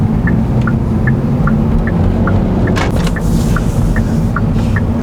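A 2024 Hyundai Elantra pulling back in at a house, heard from inside as a steady low engine and road rumble with a faint, regular ticking chime repeating throughout.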